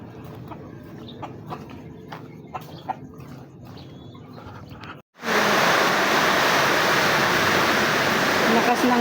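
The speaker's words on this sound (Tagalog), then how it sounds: "Lakas ng ulan mga kabiday." Heavy rain falls in a dense, loud hiss that bursts in suddenly after a quieter stretch with scattered taps and distant sounds, then pours on steadily and close.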